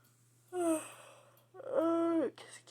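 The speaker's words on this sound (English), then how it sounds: "I'm yawning because my lungs are having a hard time filling up" A man yawns twice, a drawn-out breathy voiced sound with a short rise and fall, then a longer one that stretches out, close and quiet, with no other sound.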